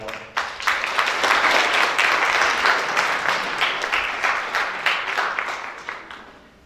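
An audience at a public literary reading in Zalău breaks into applause for a Romanian prose writer, a dense wash of clapping that builds quickly, holds, then thins into scattered individual claps.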